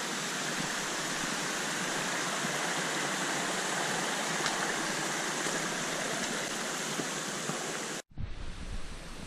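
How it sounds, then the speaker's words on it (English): A waterfall crossing on the Exmoor coast path roars steadily as a dense, continuous rush of falling water close by, then cuts off abruptly near the end. "Got a waterfall crossing here now."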